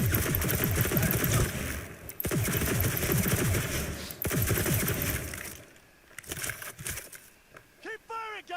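Sustained automatic gunfire from a firefight in Cyberpunk 2077, dense rapid bursts broken by brief pauses, then dropping to scattered shots and mechanical clicks near the end; a voice talks under the shooting.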